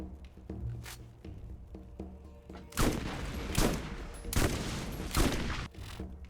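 Crux gun from the video game Borderlands firing in several bursts, a quiet stretch of small clicks and game sounds, then loud crackling volleys from about the third second on, with no talk.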